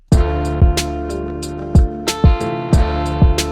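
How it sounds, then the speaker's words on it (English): Programmed drum beat of a kick drum and two layered snares, punchy and loud, the hits landing in a steady repeating pattern with a ringing low tail. "So once we add the kick and those 2 snares, we get this here."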